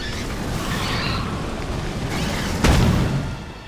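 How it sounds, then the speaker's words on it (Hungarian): An explosion in Aliens: Colonial Marines erupts as a loud, sudden low boom that swells out of a rumbling, noisy game mix and rolls on for about a second before easing. "Túl közel voltam és elkapott a robbanás."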